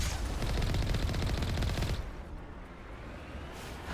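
Cannon fire from a combat scene in Mass Effect Legendary Edition, heard as a rapid, loud rattling burst for about two seconds that cuts off into a quieter rumble and then returns near the end.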